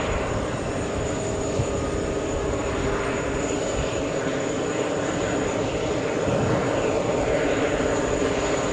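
A British Airways Boeing 777 airliner flies in to land at JFK Airport in wind, its engines making a steady, broad roar throughout that swells slightly toward the end, heard alone.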